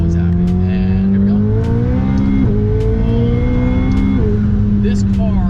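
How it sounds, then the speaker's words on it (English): McLaren 720S supercar accelerating hard under turbo boost, its engine note climbing steadily in pitch through several gear changes, loud and close, with someone talking over it throughout. "let's get some boost in here, because that's very, very happy. Boost is always happy."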